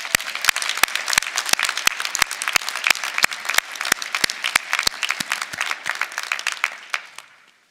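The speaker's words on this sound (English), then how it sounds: "please give all of them a round of applause," Applause at a university commencement ceremony, with sharp, fairly sparse claps ringing through a large hall alongside denser clapping from the crowd, holding steady before tapering off abruptly at the end.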